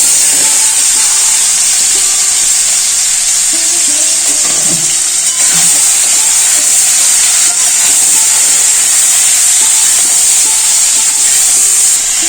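Marinated star fruit poured into a hot wok of fried spices for a pickle, giving a loud, continuous hissing sizzle with faint stirring clinks, steady for the whole stretch.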